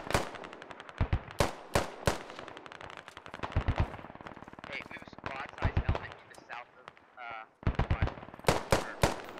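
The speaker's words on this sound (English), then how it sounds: "AR rounds start coming in" Automatic assault rifle fire in the military shooter Squad, with repeated loud bursts of rapid shots, some close and sharp, others more distant, rattling through the whole stretch while voices speak over it.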